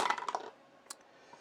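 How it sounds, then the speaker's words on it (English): Five dice tumble in a tabletop board game, a quick cluster of small hard clatters and rattles that fades within half a second, followed by a faint later click, all fairly quiet. "We will roll 5 dice."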